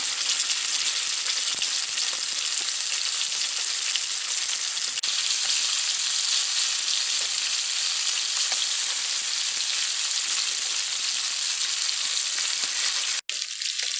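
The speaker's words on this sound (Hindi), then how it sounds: "चिकन को गोल्डन ब्राउन होने तक फ्राई करना है।" Tandoori chicken pieces frying in oil until golden brown, a dense, even, loud sizzle held unchanged throughout, ending with one sharp click.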